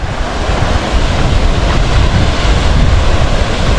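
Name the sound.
waterfall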